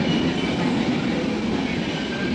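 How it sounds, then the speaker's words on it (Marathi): An LTT–Sawantwadi passenger train arriving at Diva station in Mumbai, a loud continuous rumble of wagons and wheels rolling past at close range, with no talking. "दिवागाडी आत्ता आली आहे बघा मित्रांनो ही एल टी डी सावंतवाडी आहे पॅसेंजर"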